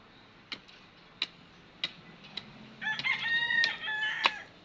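Chickens cluck and call close by while feeding, preceded by a few sharp ticking taps, with the birds growing louder and busier toward the end.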